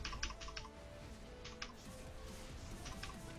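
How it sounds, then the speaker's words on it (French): Someone types hard and fast on a computer keyboard during play of an Enhancement Shaman game character, with close clusters of sharp keystrokes coming in quick bursts over faint, steady background game sound. "je commence à m'énerver sur le clavier"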